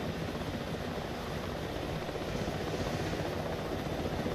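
A video game helicopter's rotor and engine roar steadily and loudly throughout, a constant close drone with no voices.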